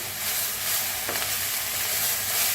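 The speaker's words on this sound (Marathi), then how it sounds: "आता मिक्स करून मटकीला भाजून घेऊया" Moth beans (matki) roasting in oil in a pan while being stirred: a steady close sizzle and crackle, with a faint scrape of the stirring.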